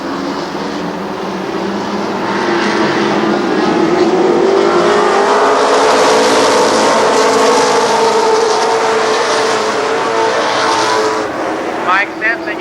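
Race cars roar around Columbus Motor Speedway, a loud, sustained pack of engines passing close with rising and falling pitch, while a commentator talks over the din.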